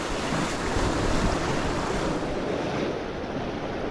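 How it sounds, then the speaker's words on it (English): Easterly wind buffets the microphone at the shore at night, with surf washing in beneath it, a steady loud roar and rush that holds unbroken for the whole stretch. "Got an easterly wind."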